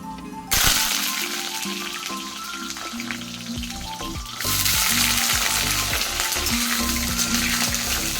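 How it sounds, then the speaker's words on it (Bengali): Black cumin seeds hit hot oil for a fish curry tempering, a sudden loud sizzle that settles into steady frying, then swells louder again partway through. "তেল গরম হয়ে গেছে একটু কালো জিরা ফোড়ন দিয়ে দেব"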